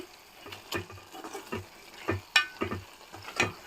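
Onion and tomato curry cooks down in a pan, heard as a quiet, irregular series of soft stirring scrapes and spoon taps over a low bubbling simmer, with no talk.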